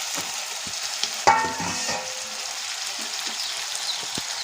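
A clatter as tomatoes drop into a pan for mutton curry, followed by a steady sizzle of frying with occasional scraping, close and moderately loud.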